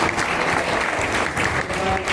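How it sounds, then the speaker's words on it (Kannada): A church congregation gives a warm, steady round of applause, dense clapping that fills the room, with faint voices underneath. "ನಮ್ಮ ದಯಾನಂದ ಕಾವಲೆ ಅವರಿಗೆ ಚಪ್ಪಾಳೆ"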